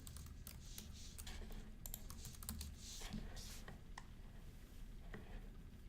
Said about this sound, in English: You can simply type the subject